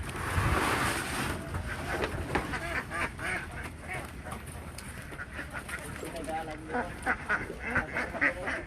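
A crowd of young ducks on a Philippine duck farm quack and chatter continuously at close range, a busy, dense flock noise with scattered sharper calls and a little background rustle.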